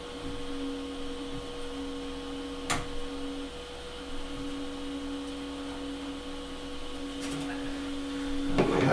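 A ROBO 3D R1+ printer's extruder draws in filament with a steady low mechanical hum and faint whirring, a brief click near the middle and a slight swell toward the end, all close by with no talk.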